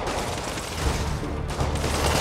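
Dense gunfire from the Spider-Man video game, with steady bursts of shots and low booms running through the whole stretch at a fairly loud, even level and no talking.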